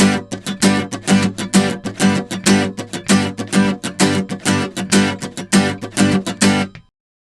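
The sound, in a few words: guitar strumming pattern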